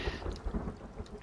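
Rain with low rumbling thunder in a survival video game, a dense wash of falling rain over deep, rolling thunder that swells and recedes across a brief stretch.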